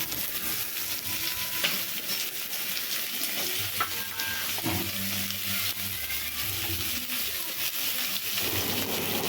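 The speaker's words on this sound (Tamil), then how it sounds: "நம்ம சின்னதாக வெட்டி வச்சுருக்கிற புடலங்காயை சேர்த்துக்குவோம்" Chopped snake gourd sautés in a pan, village-style, giving a dense, continuous sizzle close up, with scraping and tapping from stirring scattered through it.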